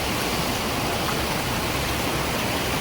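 Floodwater rushes at full force down a hillside footpath turned into a channel during heavy mountain rain, a loud, dense and steady roar with no break.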